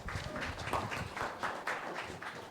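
Audience at an investor panel of elevator pitches applauds the next presenter, a soft, even patter of many hands clapping at a distance with no speech over it.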